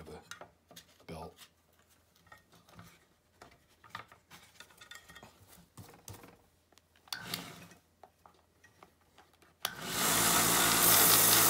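Someone talks intermittently over clicks and handling noise before a belt sander with a fine emery paper belt starts up loud and close, shaping a saxophone mouthpiece shank extension with a dense, continuous rushing grind.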